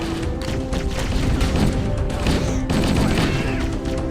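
Dense gunfire from Halo, rapid overlapping shots and booms forming a loud, continuous barrage throughout, with no talking over it.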